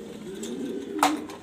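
A female pigeon coos once, a soft low hum that sits near and clear above quiet background noise in a loft.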